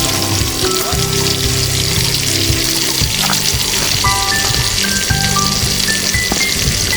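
Ginger, garlic and green chilies sizzle steadily in a hot pan, a loud, continuous frying crackle throughout with faint clinks on top, no talking.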